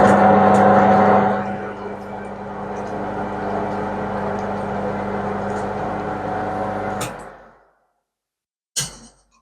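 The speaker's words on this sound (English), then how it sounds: "Helps we've turned the lathe on, doesn't it?" A metal lathe in a workshop runs with a steady mechanical hum and whine, somewhat louder at the start, then cuts off abruptly and is followed by silence and one short knock; no one speaks.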